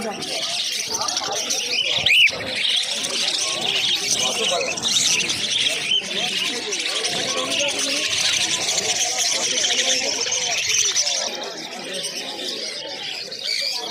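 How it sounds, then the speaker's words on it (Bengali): Caged budgerigars at the Uluberia pet market keep up a dense, continuous high chatter of chirps, with a voice talking over the birds throughout. "এখানে দেখতে পাচ্ছ প্রচুর বদ্রি পাখির কালেকশান রয়েছে এই খাঁচাটায়"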